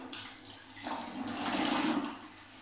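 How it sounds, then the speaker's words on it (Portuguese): A cloth is dipped into water mixed with vinegar while cleaning a bathroom, giving a soft, close swishing and splashing that swells briefly. "E agora a gente vai molhar aqui este paninho na água"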